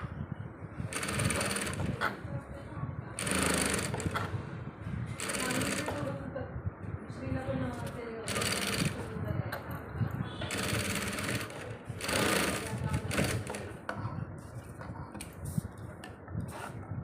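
Sewing machine stitching a double zipper onto fabric, running in bursts of rapid mechanical chatter separated by short pauses, with voices talking over it.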